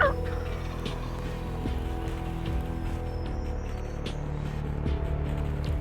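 A wild turkey tom gobbles at a distance in open farmland during a hunt, a few rising and falling calls spread across a steady low background rumble.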